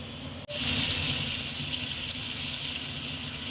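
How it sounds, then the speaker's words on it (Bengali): Hot water is poured into a pot of spiced potato and cauliflower curry, a steady hissing pour that starts abruptly after a brief pause and continues evenly, close and alone. "এবার এর মধ্যে দিয়ে দেব আমি গরম জল"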